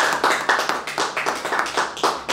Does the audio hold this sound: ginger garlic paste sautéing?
no